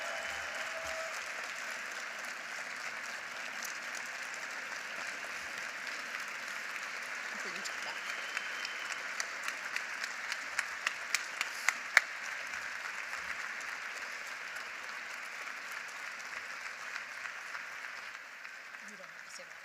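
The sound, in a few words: applause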